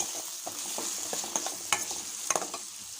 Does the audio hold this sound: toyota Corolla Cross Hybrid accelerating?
no